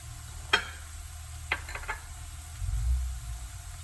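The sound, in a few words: onion mixture with chili pieces frying and being stirred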